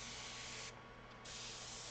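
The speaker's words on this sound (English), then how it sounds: "I forgot to spray my paper." A spray bottle mists water onto watercolor paper, a close, soft hiss lasting under two seconds with a brief dip in the middle between two bursts.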